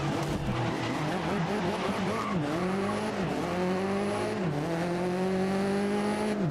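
Bugatti and Koenigsegg supercars race in the video game GRID (2019), engines roaring and shifting through repeated rising pitch sweeps with tire squeal mixed in, loud and continuous without talk.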